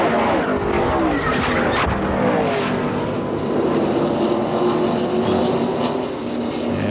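NASCAR Winston Cup stock cars roar past on the Michigan oval during a 1996 race, a loud continuous engine drone with rising and falling pitch sweeps as the pack streams by.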